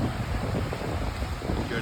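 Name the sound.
ocean water splashing at the beach in Puerto Vallarta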